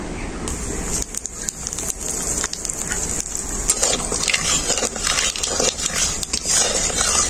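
Nigella seeds dropped into hot oil left from frying potatoes, a crackling sizzle with popping, steady and close with no talk.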